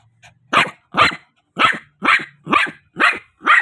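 A dog barks repeatedly, seven or so loud close barks at an even pace, with no talking.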